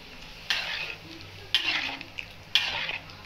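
Three scraping strokes of a spoon stirring thick cauliflower gravy in a pan, about a second apart, over a soft sizzle.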